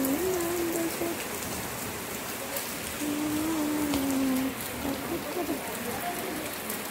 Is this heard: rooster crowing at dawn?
no